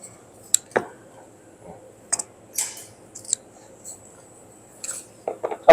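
Sparse sharp snips and clicks of cutters or scissors cutting through the wire of a TIG welding torch under repair come one at a time amid quiet pauses, with a cluster near the end.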